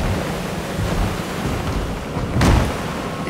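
A thunderstorm with steady, dense rain hissing close by, while a deep roll of thunder swells midway and fades back into the downpour.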